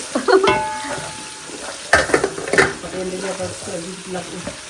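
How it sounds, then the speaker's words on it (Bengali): Onions frying in ghee and oil, with a soft sizzle beneath clanks and scrapes of a utensil stirring in the pan, close by, and a brief tonal voice-like sound near the start. "ঘির মধ্যে পেঁয়াজ দিয়ে দিল, এটা দিয়ে নাড়বো।"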